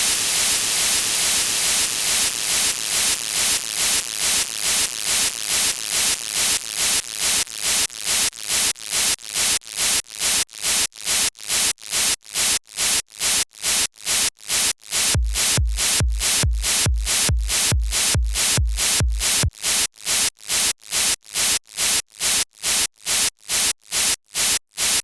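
White noise sidechained through ring modulation in the Kilohearts Compactor plugin stutters into rapid, evenly spaced bursts that speed up over time, loud and alone, with a low thumping layer joining midway.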